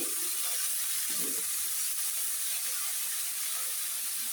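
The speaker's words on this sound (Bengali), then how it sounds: "এখন এগুলা মরিচের সাথে ভালোভাবে ভেজে নিব" Coriander leaves frying in a pan with chilies, garlic and onion, giving a constant even sizzling hiss up close that does not change, with a couple of faint low knocks near the start.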